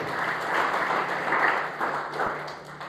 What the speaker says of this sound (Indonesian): Tepuk tangan terbaik buat Tuhan.